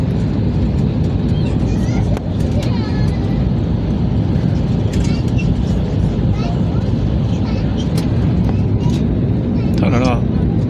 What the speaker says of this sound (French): et là atterrissage à Istanbul, depuis Genève